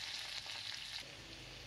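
Chopped onions sizzle in hot oil in a pan with mustard seeds and cumin for a mint mushroom gravy, a bright continuous hiss that steadies after a brief shift, close and alone.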